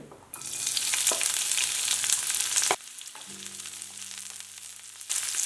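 Chopped onion and green chillies frying in oil in a pan give a loud, close hiss that eases after a few seconds and then surges again, with faint stirring clicks and no speech.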